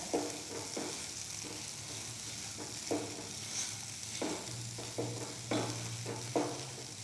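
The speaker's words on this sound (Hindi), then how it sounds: "इसे हमने इसी तरह से मसलते हुआ बिल्कुल धीमी आंच पे पकाना है।" Chunks of potato are mashed and stirred in a pan over low heat, with a soft continuous sizzle under repeated scraping strokes that come every second or so, close and moderately loud.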